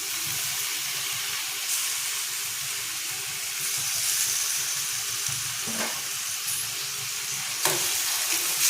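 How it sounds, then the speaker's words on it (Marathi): Onion browned to pink with tomato added, sautéing in a pan for a Malvani dried bombil chutney: steady close sizzle and frying hiss throughout, with a few scraping stirs of a spoon against the pan. "टॅमॅटोसुद्धा नेहमीपर्यंत व्यवस्थित असा परतून घ्यायचा आहे"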